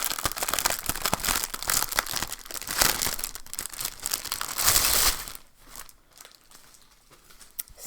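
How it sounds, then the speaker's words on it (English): Plastic wrapping being crinkled and peeled off a new planner cover, a close, continuous rustle of crackles and small tears that tapers into quieter, sparse rustling near the end. "She loves crinkle plastic."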